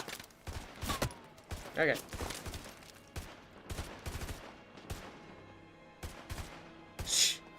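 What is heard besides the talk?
gunfire in Modern Warfare 2 Remastered video game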